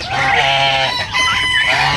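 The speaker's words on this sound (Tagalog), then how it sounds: "yung mga gansa ko po ibinukod ko na dito" Geese honk loudly and close by, a run of nasal calls overlapping with one another.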